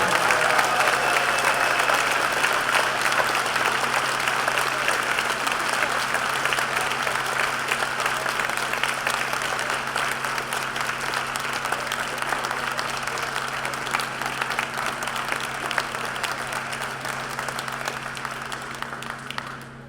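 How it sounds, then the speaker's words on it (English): Sustained, loud audience applause fills a hall at the closing ceremony of the BC 55 Plus Games 2016, a dense wash of clapping that holds steady for the full stretch and fades slightly toward the end. "Ladies and gentlemen, a round of applause for all of these people."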